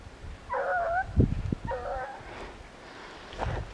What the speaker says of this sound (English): You got a dog barking at us.